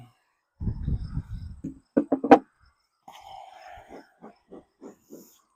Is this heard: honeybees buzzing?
yes